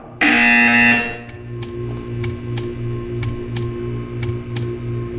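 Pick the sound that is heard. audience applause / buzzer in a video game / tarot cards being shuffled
buzzer in a video game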